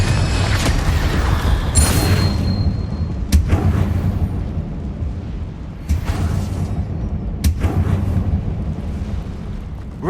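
Fiery spell blasts from the Confringo curse in Hogwarts Legacy, a dense roaring barrage with sharp booming bursts recurring every couple of seconds over constant rumbling battle noise, loud and close with no talk.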